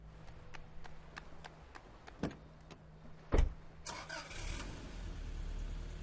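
A car engine starts up in the AI The Somnium Files video game, with faint clicks before a sharp thump, then a rising rush of engine and road noise as the car drives off.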